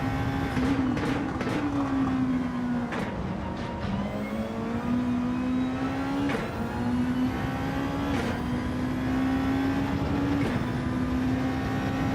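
Race cars in a racing game scream past at high revs, engines rising in pitch between sharp gear-shift breaks, with two cars jostling through the final corner, loud and close throughout, no voices.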